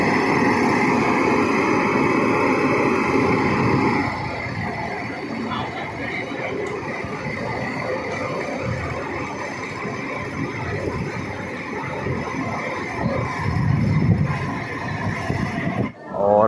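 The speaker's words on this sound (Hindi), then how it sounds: "बाकी स्टार्टअप सुन लीजिए V7 का एक बार।" A V7 electric locomotive powers up as a Digha-to-NJP Paharia Express departs the station, giving a loud, steady broadband rumble and whine that holds for about sixteen seconds with a brief swell near the end.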